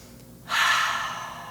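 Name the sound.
deep breathing during yoga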